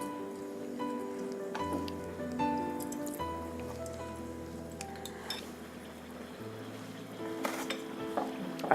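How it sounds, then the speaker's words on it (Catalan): Decorative dough cutouts, some heart- or Christmas-gift-shaped, frying in hot oil with a steady soft sizzle and crackle, accompanied by occasional light clinks of utensils. "Les posarem a fregir."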